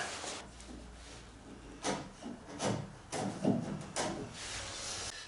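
Chisel scraping and paring the wooden underside of a wooden boat's nose piece, a series of soft irregular rasping strokes, close and fairly quiet with no talk.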